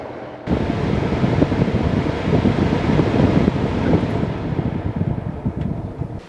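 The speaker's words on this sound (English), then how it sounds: "let's go ahead and shut this blower down" An HVAC blower motor roars with a loud, steady broadband rush of moving air, cutting in abruptly at the start and holding constant with slight fluctuations, close and without talk.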